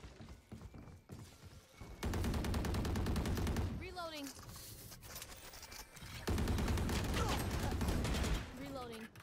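Two long bursts of automatic gunfire in a first-person shooter video game, each a tight, rapid rattle of shots lasting about two seconds, separated by quieter moments with clicks, whooshes and players talking.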